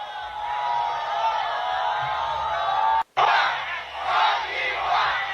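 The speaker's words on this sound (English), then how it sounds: "Everybody is screaming Côte d'Ivoire." A Miss Universe pageant crowd screams and chants for Miss Côte d'Ivoire, a dense, loud, surging roar of many voices with one abrupt momentary cutout midway.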